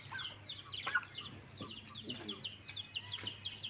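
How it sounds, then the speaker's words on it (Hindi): Small chicks kept in a cage in a home bird collection give a dense run of high, rapid peeping chirps. The chirps are close and moderately loud, with a low hum underneath. "नीचे छोटे चूज़े हैं, इनका भी आपको शौक करवाता हूँ"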